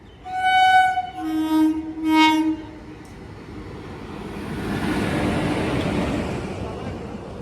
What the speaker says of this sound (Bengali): অনেকটাই লেটে ট্রেন ছাড়লো আর আমাদের জার্নি শুরু হলো